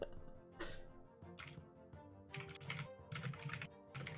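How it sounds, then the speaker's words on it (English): Typing on a computer keyboard comes in quick bursts of clicky keystrokes separated by short pauses, fairly close and moderately loud, with no talking. "He's typing."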